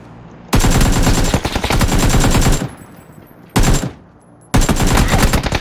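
Rapid automatic gunfire in a video game, heard as dense loud bursts lasting a couple of seconds, broken by short pauses before the firing resumes.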